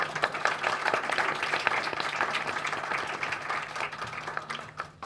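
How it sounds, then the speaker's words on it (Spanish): An audience applauds a professor who moderated a panel at a university literature colloquium, a steady round of clapping that continues throughout and tapers slightly toward the end. "Un aplauso para el profe."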